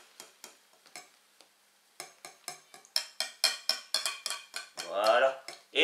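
Egg whites are folded gently into vanilla magic cake batter with a utensil, producing a series of soft, rhythmic taps and scrapes against the bowl that grow louder, with brief talk mixed in.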